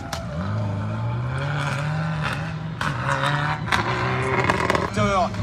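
A rally car races through a special stage of the Rally Vosges Grand Est, its engine revving and shifting loudly as it passes, while a commentator talks over the sound.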